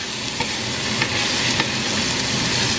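Peppers and garlic sauté in a hot pan with a dense, steady sizzle and hiss close up, broken by a few light clicks of a utensil stirring.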